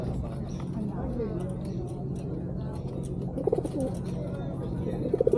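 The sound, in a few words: racing pigeons cooing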